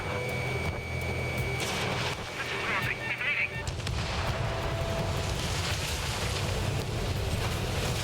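Ace Combat 7 jet combat: a roaring missile launch and bursts of gunfire over constant engine and wind rush, loud and dense throughout, with a voice talking over it.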